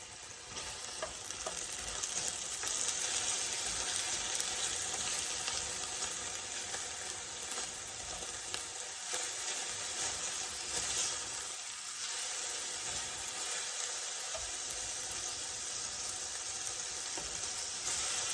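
Onion frying in a little added oil in a pan used for beef strips with asparagus, a steady loud sizzle with stirring running throughout, no talking.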